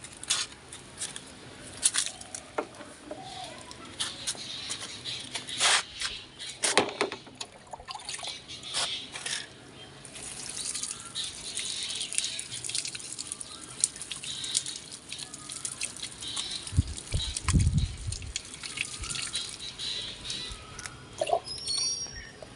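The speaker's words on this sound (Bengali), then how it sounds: "তারপর একটু জল দিয়ে দেবো" Water is poured onto the soil of a potted lychee sapling in a rooftop garden, giving a soft, irregular splashing and trickling at close range, with scattered handling knocks.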